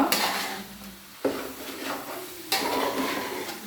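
A spoon scrapes and clatters against a pot while chicken curry masala is stirred, producing three sharp metallic knocks spaced about a second apart with soft scraping and a faint sizzle between them.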